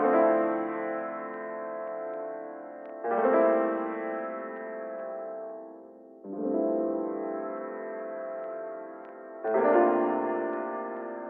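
Four sustained chords on a software piano, each struck and left to ring for about three seconds before the next, clean and alone.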